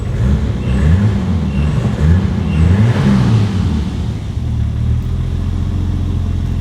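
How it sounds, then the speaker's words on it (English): A turbocharged BMW E30 325i engine running close by and loud, with a brief rise in revs as the throttle is blipped before it settles back to a steady rumble. "Let me give it a blip on the throttle."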